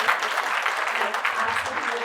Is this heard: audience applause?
yes